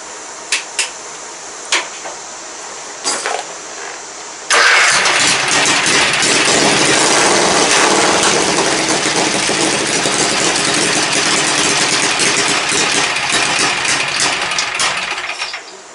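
A car known as The General cranks over after a few faint clicks and catches around the four-second mark, then settles into a loud, steady idle that runs close and continuous to the end.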